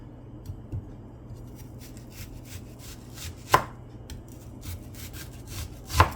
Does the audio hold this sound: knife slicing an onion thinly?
yes